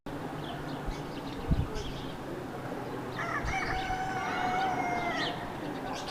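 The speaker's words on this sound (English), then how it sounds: "I saw a chicken, and I heard him crowing" A rooster crows in the yard of Caiaphas' house in Israel, one long, somewhat distant cock-a-doodle-doo rising out of steady outdoor background noise, with a brief thump just before it.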